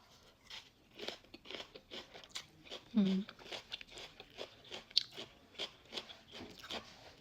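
Crunchy chewing of a spicy Thai chicken feet salad, briefly boiled to stay firm: repeated close, crisp bites in a regular rhythm, with a short murmur partway through.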